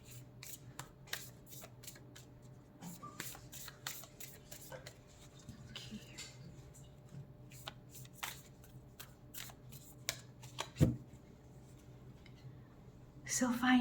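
Tarot cards are handled and drawn from a deck in a run of crisp, quick card flicks and slides, close and fairly quiet, with a soft voice speaking beneath.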